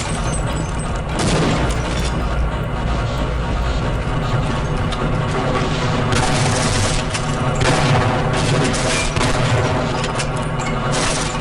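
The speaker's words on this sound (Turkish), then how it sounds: "Bomba attı lan." Explosions and gunfire in the shooter game Half-Life 1 MMOD: loud, dense bursts of rapid shots and booms fill the whole stretch with steady intensity and no talk.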